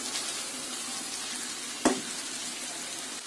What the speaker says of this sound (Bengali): এখন দিয়ে দিচ্ছি ম্যারিনেট করা চিংড়িগুলি। চিংড়িটাকেও আমি এই তেলের মধ্যে 3-4 মিনিট একটু ভেজে নেব।